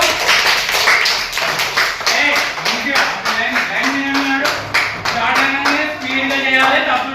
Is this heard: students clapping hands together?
yes